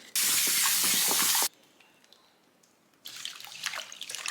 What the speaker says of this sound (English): I'm going to wash them with a little bit of baking soda and water